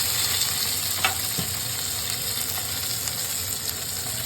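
Raw tomato frying with onions in hot oil makes a steady, close sizzle throughout, broken by a couple of soft stirring knocks. No one speaks.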